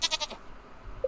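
A goat in the Stardew Valley video game gives a quick run of three or four short, nasal bleats, then the sound drops to a quiet background.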